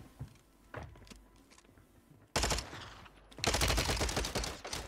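Gunfire in Call of Duty Warzone on Rebirth Island from a VAZNEV 9K submachine gun: a few scattered distant shots, then two loud rapid automatic bursts close by.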